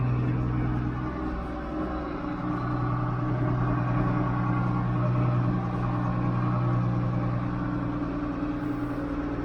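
International Harvester 886 tractor engine running steadily, a continuous low diesel drone with even rumble and no pauses, heard close up on its first test drive.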